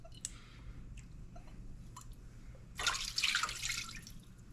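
Chicken broth with lemon and lime juice poured into the bottom of a roasting pan under a pork shoulder, a brief bright splashing pour of liquid after a few quiet drips and clicks.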